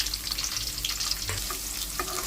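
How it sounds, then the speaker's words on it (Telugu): Chopped onions frying in hot oil for garlic chicken, a steady close sizzle with a few scraping stirs and clinks, no talking. "చూడండి, ఆయిల్ హీట్ ఎక్కింది. ఇప్పుడు ఆనియన్స్ వేసుకుందాం."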